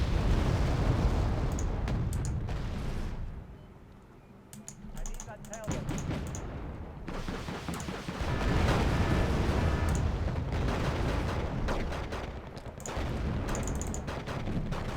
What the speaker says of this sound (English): Just an insane noob level amount of artillery.